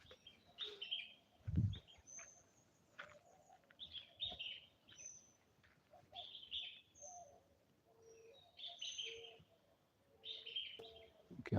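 Several birds chirp outdoors near a mango tree in repeated short bursts of tweets, with a soft cooing call beneath, faint and slightly distant.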